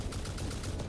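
A rifle fired while hovering in Satisfactory, heard as a quick run of several sharp, evenly spaced gunshots packed into under a second, loud and close with no talk.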